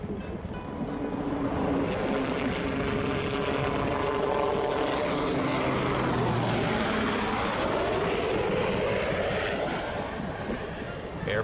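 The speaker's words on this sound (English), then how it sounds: "Airplane?" An airplane flies overhead in the factory-building video game Workers & Resources, its engine a loud, steady droning roar with a shifting whine that holds for the whole stretch, with no one talking.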